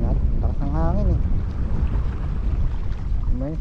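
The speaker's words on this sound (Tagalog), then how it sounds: "Lakas ng hangin eh." Strong wind buffets the microphone steadily during a fishing outing with an ultralight setup, a constant roar with a voice speaking over it.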